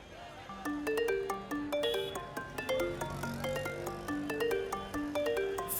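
A melodic phone ringtone plays a quick repeating pattern of bright electronic notes, moderately loud and continuous, with faint background noise underneath.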